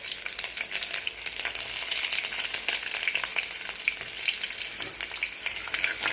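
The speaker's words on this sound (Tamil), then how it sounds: "நல்லா வதக்கிட்டு கொஞ்சம் எண்ணெய் வந்து தாராளமாகவே விட்டுருங்க." Garlic, cumin seeds and fenugreek sizzle and crackle steadily in hot oil in a pan for a Tamil dried-fish curry, a close, even frying hiss with small pops and no talking.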